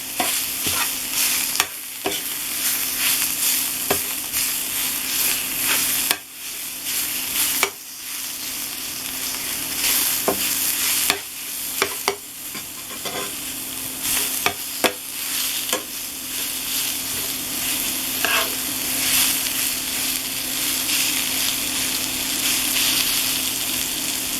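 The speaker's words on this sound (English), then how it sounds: "You see the sausage is nice and cooking up." Sausage fries in a pan with no olive oil, giving a steady, loud sizzle and crackle throughout, broken by occasional sharp scrapes and clinks of a utensil stirring against the pan.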